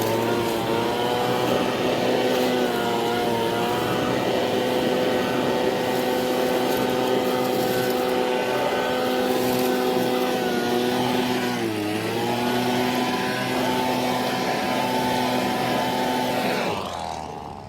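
A Skyvac roof and gutter vacuum runs steadily on a raised ranch house job, a loud, continuous motor drone with a brief dip in pitch partway through before cutting off at the end.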